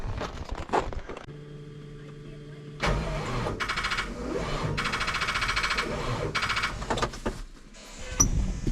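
A farm tractor is cranked in extreme cold, with a labored starter whirring and churning in bursts, followed by a sharp clatter near the end.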